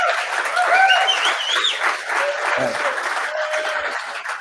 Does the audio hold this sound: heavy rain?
no